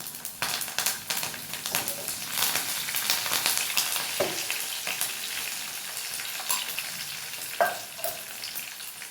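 Garlic, mustard seeds and curry leaves fry in hot oil for a tamarind chutney, a loud, dense crackling sizzle with spitting pops and occasional stirring clinks throughout.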